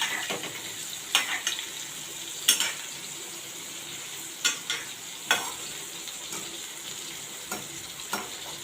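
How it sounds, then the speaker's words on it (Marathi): Stuffed bitter gourds sauté in oil in a pan over a low flame with the lid off, giving a steady soft sizzle broken by about eight sharp spatula scrapes and stirs. "झाकण काढून कारली थोडी परतून घेऊया हलकी आपण त्यांना तेलावर परतत आहोत"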